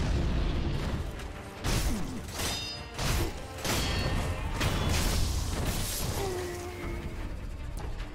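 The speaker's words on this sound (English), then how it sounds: "There's a dude shooting at me" In Sekiro: Shadows Die Twice, an enemy fires at the player, giving a series of sharp bursts and heavy booming thuds. They land amid low rumbling game ambience, with no talk over them.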